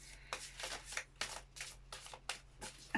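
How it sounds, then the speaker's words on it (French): A deck of tarot cards being shuffled close up, with about eight quick riffling bursts in an uneven rhythm, fairly soft and with no talking. "j'ai bien cru que tout le paquet de cartes allait voler"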